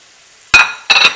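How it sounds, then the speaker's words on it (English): Yellow squash dropped into melted butter and olive oil in a hot pan gives two sharp bursts of loud sizzling that hiss on and fade between them, with no talking. "once your butter has almost completely melted, you want to go in with your yellow squash"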